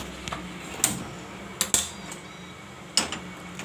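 A kadai wok set down on a gas stove in a home kitchen, giving a few sharp metallic clanks and knocks spread over several seconds against a quiet background.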